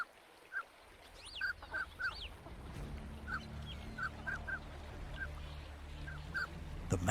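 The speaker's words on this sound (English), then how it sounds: "The mandarin duck, knowing that Mother Nature has been generous with its appearance but not with its combat skills" Mandarin ducks in the Siberian wilderness give repeated short honking calls in quick clusters, fairly near, over a low steady background rumble.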